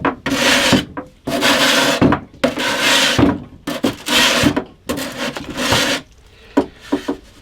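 Guitar binding sanded with 120 grit sandpaper glued to a strip of spring steel, close and loud: six long rasping strokes in an even rhythm, then a few shorter scrapes and taps, with no talk.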